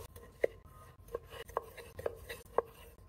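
A knife cuts small cherry tomatoes in half on a board, six crisp, separate chops spaced about half a second apart, close and clear over a quiet background.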